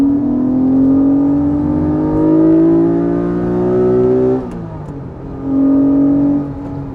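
A Honda V6 engine revs up loudly, its pitch climbing steadily before dropping sharply as the throttle closes, then surging again into a sustained high-revving howl, with no talking over it.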